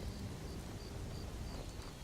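Steady rain falls in the video game Skyrim, a dense, even hiss with a low rumble beneath it that continues unbroken and fairly quietly throughout.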